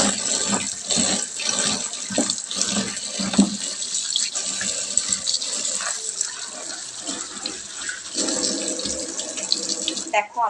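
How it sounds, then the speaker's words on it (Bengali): Cut vegetables are rinsed and rubbed in a basket under a running tap, water splashing and gushing continuously close by with no talking. "এবার আমি সবজিগুলোকে একটা ঝুড়ির মধ্যে নিয়ে ভালো করে কচলে ধুয়ে নেব।"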